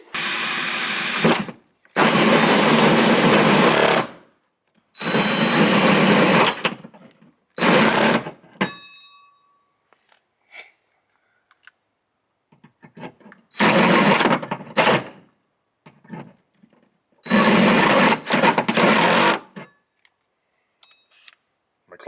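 Cordless power drill driving screws while installing a window-mounted HVAC unit, its clutch slipping; several loud whirring bursts of a few seconds each, separated by pauses.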